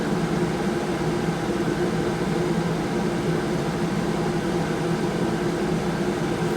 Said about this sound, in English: the air conditioner on and not worry about noise, because it is very loud on the other air conditioners